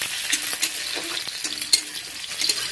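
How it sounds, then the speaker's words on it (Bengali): Chopped onion frying in a pan as a home cook stirs it, a steady close sizzle broken by repeated scraping strokes of the spoon at an uneven rhythm, with no talking. "তো এবার পেঁয়াজ কাটাটাও দিয়ে দিব, দিয়ে দিয়েছি, একটু লেড়ে নেব।"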